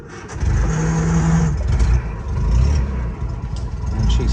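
A cold 1960 Bedford CA Dormobile engine on choke cranks with the starter and catches, then settles into a rough, loud idle with uneven revving pulses close by.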